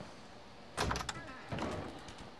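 A door opening in the Fallout 4 video game: two mechanical sliding bursts, the first sharp and loud, the second a slightly softer grinding slide, with no talk over them.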